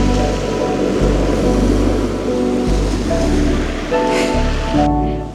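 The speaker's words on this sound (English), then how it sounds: "I felt very drawn to the sea, especially the waves swirling against the wooden stakes" Sea waves swirling against wooden stakes on the shore, a continuous loud rushing wash of water with low surging swells and no voices.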